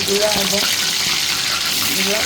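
French fries dropping into hot oil and frying, giving a steady broadband hiss and crackle that runs through the whole stretch, with a faint voice briefly over it.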